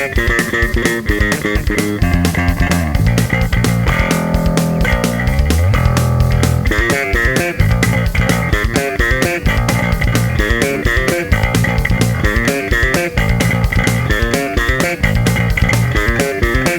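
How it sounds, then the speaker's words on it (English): Bass guitar solo at 258 bpm, a fast, dense run of driving notes with a steady hard-hitting beat throughout, loud and continuous with no talking. "Okay, let's have a listen to this bass solo."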